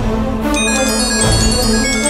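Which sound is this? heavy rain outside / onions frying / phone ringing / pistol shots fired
phone ringing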